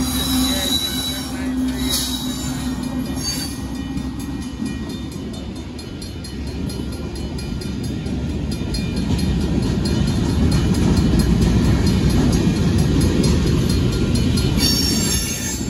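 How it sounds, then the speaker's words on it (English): A northbound Union Pacific mixed freight train passes at Oltorf Street in Austin, Texas, with loud, continuous wheel squeal and rumbling rail noise close by, building steadily over the whole stretch. "There's a freight train up on the Amtrak."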